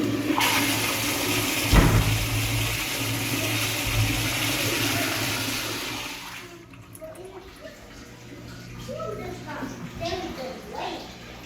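Hotel toilet in Gettysburg, Pennsylvania flushing with a loud, steady rush of water that fades after several seconds into quieter refilling trickles, with people talking faintly nearby.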